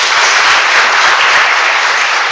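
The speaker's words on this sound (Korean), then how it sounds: "우리 박수로 다시 한번 환영하겠습니다." A church congregation claps in unison to welcome a speaker, a loud, dense, continuous wash of applause filling the hall.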